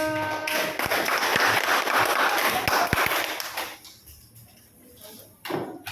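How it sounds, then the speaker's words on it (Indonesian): A burst of clapping from a primary school class, dense and steady for a few seconds, then fading into a quieter classroom with a few stray sounds. "tepuk tangan buat kelompok yang pertama"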